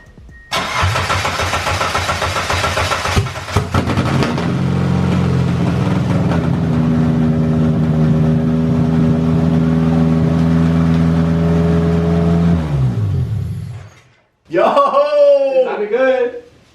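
A Mitsubishi Eclipse 2G with a straight pipe cranks, catches and settles into a loud, close, rough idle that runs for about ten seconds, then cuts off; a voice follows at the end.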